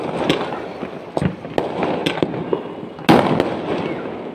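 Firecracker bombs burst amid ongoing fireworks, several sharp cracks at irregular intervals, one louder close bang near the end, over a crowded background.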